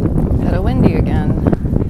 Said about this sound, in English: A little windy again.